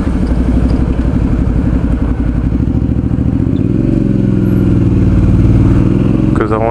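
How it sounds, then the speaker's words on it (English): A Suzuki V-Strom 650 motorcycle rides over streetcar rail tracks in San Francisco, its steady close engine drone holding throughout with a shift in pitch partway through, loud and constant. "I'm riding right over the rail tracks. These are rail tracks for the streetcars."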